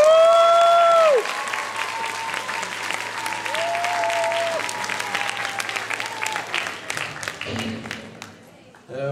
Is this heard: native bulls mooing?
no